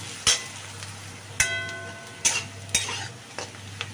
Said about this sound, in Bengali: পেঁয়াজটা একটু ভাজা ভাজা করে নিচ্ছি, হালকা ব্রাউন হওয়া পর্যন্ত আমি ভেজে নেব পেঁয়াজটা